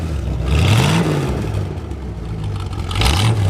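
A 1967 Chevrolet Corvette engine revs loudly through its tailpipes, rising in two distinct throttle blips with a steady rumbling idle between them, close and without speech.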